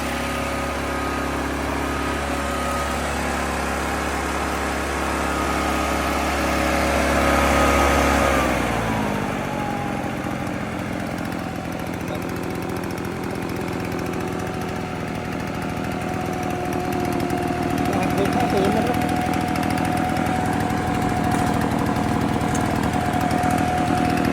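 An FB-650 leaf blower, a small petrol engine, runs loudly at close range, first at a high roar, then its pitch drops and settles into a steadier drone before rising slightly again.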